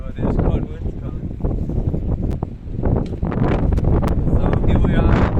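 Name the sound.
strong cold wind on a sailboat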